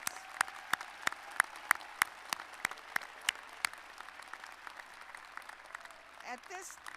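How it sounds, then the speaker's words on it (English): Slow, evenly spaced hand claps for graduates at a commencement ceremony ring out one after another, sparse and crisp rather than a full crowd, before a voice briefly starts at the end. "Another round of applause for our graduates"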